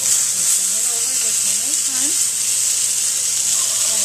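Salmon fillet frying in a pan with little oil, giving a steady broadband sizzle throughout, with a person talking over it.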